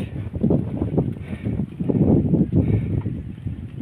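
Gusty wind on a hilltop peak in Sagbayan, Bohol, buffets the microphone in loud, low, uneven rumbles that swell and ease in waves.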